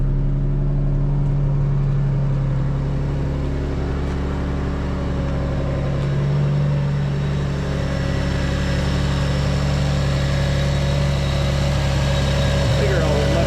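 A Subaru SVX engine, started for the first time in a long while and showing a check engine light, idles with a steady, close, low hum that holds loud and even with no talk over it.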